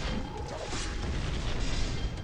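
Explosions from the tower-defense video game Tower Conquest, a continuous dense rumble of booms and blasts filling the whole stretch at steady loudness, with no talk over it.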